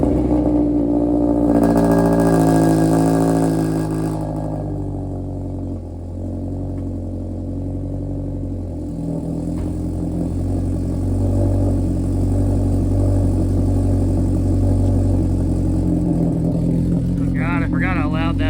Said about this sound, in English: here goes the world's like worst sounding cold start